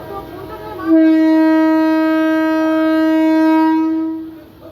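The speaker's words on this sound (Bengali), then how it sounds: "পেছনেও হর্ন দিয়েছে, সামনেও হর্ন দিয়েছে।" At a railway crossing near Tarakeswar, a single loud vehicle horn blares for about three seconds, rich and steady, then cuts off, over a low background murmur.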